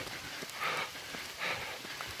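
Steady rain during an uphill mountain long run, a continuous close hiss of falling drops with two brief louder surges, heard alone.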